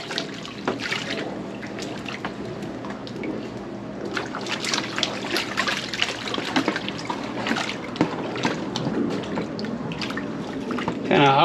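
Sluice concentrate being panned in water for placer gold, with continuous swishing, trickling and splashing of water and gravel in a pan, close and steady throughout.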